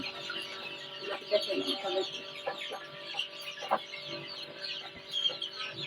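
Chickens and young chicks on a poultry farm with an egg incubator, clucking and cheeping repeatedly at moderate distance over a quiet background, with soft voices in the mix.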